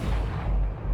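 A single gunshot in the video game Batman: The Telltale Series, a dull, heavy boom with a low rumbling tail, fairly quiet and heard alone.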